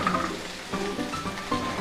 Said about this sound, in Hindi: तेल के गरम होते ही हम इसमें डालेंगे हमने जो जीरा लिया था वो